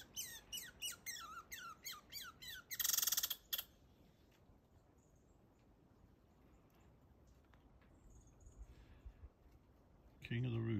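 Geese squawk in a rapid series of harsh, repeated honking calls early on, then fall back to a quiet outdoor background before a loud burst near the end.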